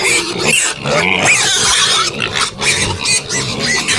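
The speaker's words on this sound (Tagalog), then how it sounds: "Yung mga biik natin. Ay, ano na sila? 1 month and 2 days." One-month-old piglets grunt and squeal loudly and continuously in a pen, a dense chorus of overlapping pig calls filling the whole stretch with no clear speech.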